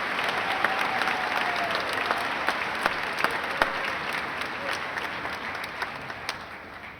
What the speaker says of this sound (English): Let's give all of our nominees one last round of applause.